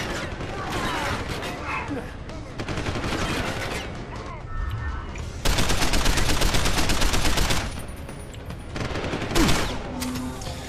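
Blind-fired gunfire in Deus Ex: Human Revolution, The Missing Link, comes as dense, loud, rapid bursts with sustained automatic volleys and brief lulls.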